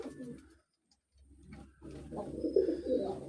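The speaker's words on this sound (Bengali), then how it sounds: "আমার কবুতরগুলো ইনশাল্লাহ মাশাআল্লাহ অনেক সুন্দর।" Pet pigeons cooing close by, a few soft, throaty coos in short bursts separated by a brief quiet gap, the later calls a little louder and fuller.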